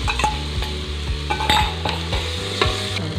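Ginger-garlic paste sizzles and fries with browned onions in a pressure cooker while a spoon stirs and scrapes, knocking the metal pot in repeated close strokes over a steady hiss, with no talk.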